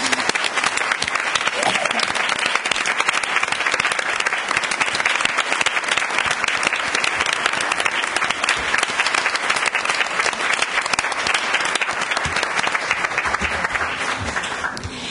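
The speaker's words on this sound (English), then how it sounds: "I'd really like to applaud Kathleen and say thank you." Sustained, vigorous applause from a large audience, dense and even throughout, fading slightly at the very end.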